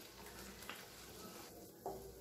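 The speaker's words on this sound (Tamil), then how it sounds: "இப்போ இது எல்லாத்தையும் நல்லா கலந்து விட்டுடலாம்" Ground masala for a Tamil egg curry sizzles and frying in a pan, with a soft continuous hiss, faint scraping stirs and a couple of light utensil clinks, quiet and close.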